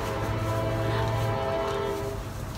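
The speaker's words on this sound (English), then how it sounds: "Do you hear the train?" A train rumbles past nearby, its horn sounding a sustained tonal blast over the steady roar of the rails.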